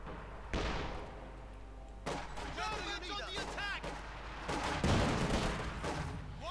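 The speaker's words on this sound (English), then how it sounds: "Guardsmen there firing away." Guardsmen firing in the Company of Heroes 2 strategy game, a dense battlefield mix of rifle cracks, heavy thumping blasts and whistling shells, steady and loud, with a voice talking over it.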